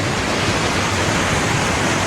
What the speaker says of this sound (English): So this is like a double waterfall.